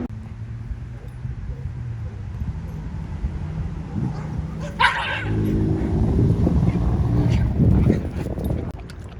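Dogs at a dog park, with yips, whimpers and barking amid steady outdoor background noise, louder in the second half, with a voice faintly in the mix.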